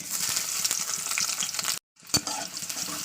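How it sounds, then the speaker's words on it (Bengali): Onions frying in hot mustard oil, a close, steady crackling sizzle with stirring clicks, briefly cut to silence before the frying resumes, no voices. "তেল আমার গরম হয়ে গেছে পেঁয়াজটাকে দিয়ে দিচ্ছে"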